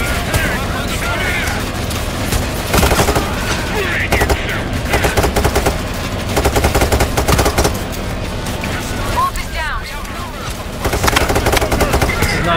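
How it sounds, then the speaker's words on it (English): Sustained gunfire aimed at the player during a police armored truck heist in Payday 3, with dense rapid bursts and overlapping shots that keep hammering loudly for the whole stretch, with brief lulls between volleys. "Don't like stop shooting at me, please."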